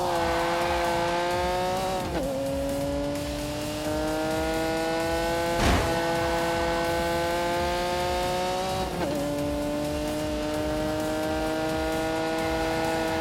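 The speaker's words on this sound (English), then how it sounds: "Jab of brakes." Car in The Grand Tour Game video game, a loud high-revving engine climbing and dropping through shifts with a sudden sharp burst as brakes bite, continuous and close without talking.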